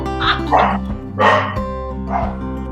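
A dog barks three times in a row, close and fairly loud, with short gaps between the barks over a low steady background hum.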